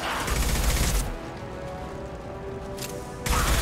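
Assault rifle gunfire in Mass Effect 2: a dense burst of rapid shots opens, then a quieter stretch, and another loud burst follows at the end, with no one talking.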